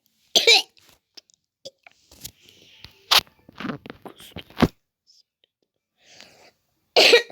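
Several harsh coughs spread irregularly, loud and close, with quiet breathy sounds and small noises in between.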